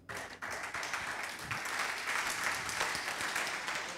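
Congregation applauding during a church service, steady dense clapping from many hands sustained throughout after a brief quieter start, fairly loud and close.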